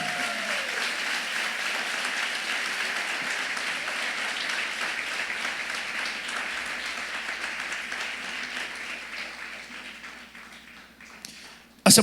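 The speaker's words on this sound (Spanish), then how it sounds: "Denle aplauso a la presencia del Señor" Church congregation applauding during a service, a long, broad sheet of steady clapping that slowly thins toward the end, finishing on a loud close bump.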